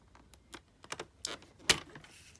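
Paper trimmer cutting blade sliding through cardstock while making a square tri-fold card, a series of small clicks and scrapes ending in one louder sharp slide, close and alone.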